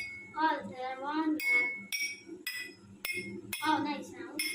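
Water-filled glasses are struck at different pitches: about five bright, ringing clinks, each one sharp and close, with people talking between and over the strikes.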